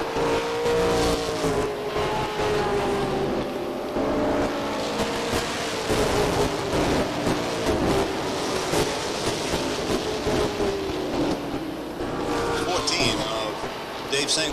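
Stock cars roar around an oval during the 1990 ACT New England 300, engines droning loud and continuous with pitch sweeping as the pack closes on a slowing car, a commentator talking over the noise.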